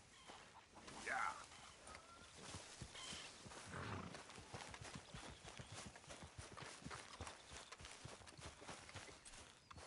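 A horse's hooves clop along at a walk in the open-world western game Red Dead Redemption 2, with a steady, rhythmic beat that grows more regular midway, soft and close, with low voices and ambient sounds in the background.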